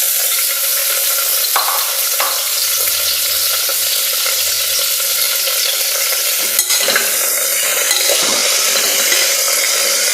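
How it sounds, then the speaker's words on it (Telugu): Green chillies and chopped ingredients stirred in a frying pan, a steady loud sizzle with scraping strokes of the utensil throughout, no talking. "ఇదంతా ఈ విధంగా కలుపుకోవాలి."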